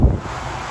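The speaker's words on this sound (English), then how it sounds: "it is windy" Strong wind buffeting a microphone beside a car transporter lorry in a lay-by, a loud low rumbling roar with a gusty burst at the start, then steady blustery noise throughout.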